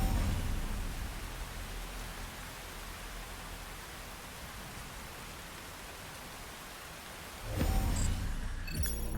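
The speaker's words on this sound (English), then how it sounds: "It's raining. It's raining really hard." Heavy rain in a combat video game set during a tank ambush, a dense steady wash of hissing downpour that continues unbroken, swelling slightly louder near the end, with no voices.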